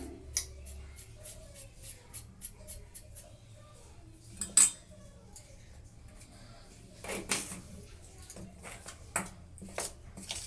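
A spoon clinks and scrapes around a bowl while dry flour mixed with baking soda is stirred for crisp eggplant fritter batter, with sharp irregular taps and rattles, a few louder knocks midway.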